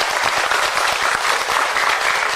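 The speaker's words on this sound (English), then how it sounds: "give him a big round of applause" Dense, steady applause from a festival audience at a Ukrainian festival in Gardenton, loud and sustained with no gaps, many hands clapping together throughout.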